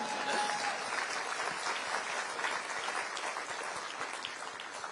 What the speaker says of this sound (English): That's right, you should clap.